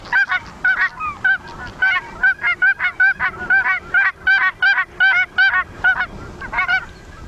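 Cackling goose calls played back from a recording, a steady run of short, high, yelping honks repeating in quick rhythm, clear and fairly loud with no talk over them.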